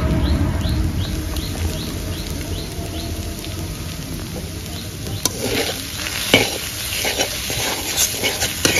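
Homemade spice paste hits prawns and banana stem frying in a pan, giving a steady sizzle with stirring scrapes and occasional clinks of the spoon, plus faint birdsong in the background.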